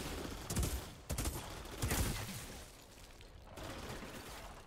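Gunfire in the video game Outriders: a few short bursts of shots and heavy impacts crack out at moderate distance, separated by quieter stretches of game ambience, with no speech.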